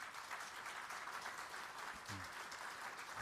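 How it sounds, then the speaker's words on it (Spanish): Faint, steady applause from a church congregation during a Sunday service, a soft continuous patter of many hands heard from a distance with no voices over it. "¿Pueden dar aplauso?"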